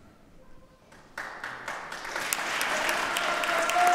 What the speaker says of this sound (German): der tosende Applaus der jungen Leute hier für Papst Franziskus